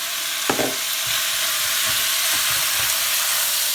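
Minced beef frying in a generous amount of olive oil in a pan for a bolognese sauce, giving a steady close hiss and sizzle with a few soft scraping stirs.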